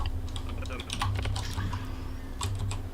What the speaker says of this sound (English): Even the typing is lagged.